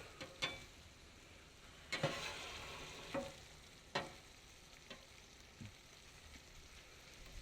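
Sausage and bacon fry on a Weber griddle, a steady faint sizzle broken by a few sharp scrapes or clacks of a spatula at irregular intervals.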